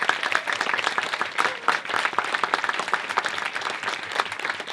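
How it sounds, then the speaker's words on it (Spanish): Audience at a talk with a novelist and a film director claps for a film's cast, brisk, distinct individual claps forming a lively, uneven burst of applause close by, with no voices. "aplauso para el elenco"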